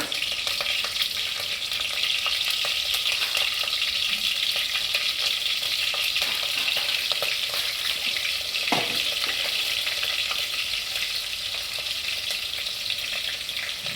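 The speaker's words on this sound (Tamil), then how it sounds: "இப்போ நல்லா எண்ணெய் காஞ்சிருக்கா பார்த்துட்டு அதுக்கு நீட்டாக அரிஞ்சு வச்சுருக்கிற பச்சை மிளகாய் போட்டார்" Sliced green chilies hit hot oil in a pan, giving a loud, dense, continuous frying hiss that holds steady throughout with only a brief clatter midway.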